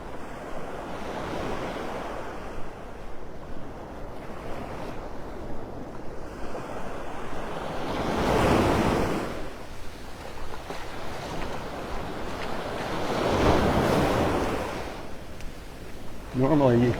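Ocean waves roll onto a beach at Delnor-Wiggins in North Naples, Florida, with gusting wind buffeting the microphone; two big surges of surf swell and fade over a constant wash, and a voice briefly talks near the end.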